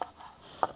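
A knife chops parsley finely on a board while turkey with vegetables cooks in a cauldron over a campfire, two faint, sharp chops with a quiet gap between them.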